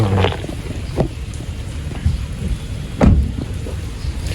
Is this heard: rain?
yes